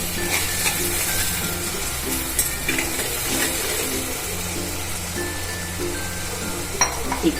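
Masala for paneer bhurji sizzles in a pan after a spoonful of water goes in, a constant close hiss with light scraping stir noises and small clicks throughout.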